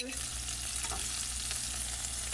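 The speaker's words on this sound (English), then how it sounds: "You just let your shrimp cook until you see the nice pretty pink color." Shrimp sizzling and frying in a hot pan, a steady dense crackle with occasional stirring scrapes, close and continuous with no talking.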